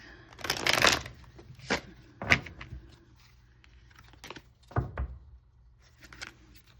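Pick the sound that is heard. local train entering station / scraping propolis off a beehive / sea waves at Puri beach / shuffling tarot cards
shuffling tarot cards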